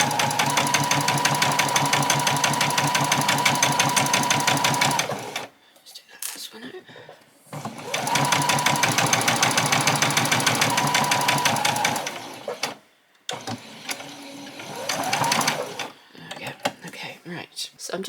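A sewing machine runs in two long steady bursts of fast, even stitching straight across an apron, separated by brief pauses filled with fabric handling and small clicks.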